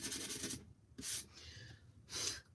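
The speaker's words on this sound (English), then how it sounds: "I'll do some sanding here on the edges." The edges of a wooden kitchen sign board are sanded in three quiet, raspy strokes, each a short burst of scratchy friction with soft pauses between.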